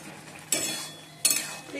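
Snake gourd cooks in a pan, a soft low sizzle broken by two sharp scraping stirs of a spatula against the metal, close and quiet.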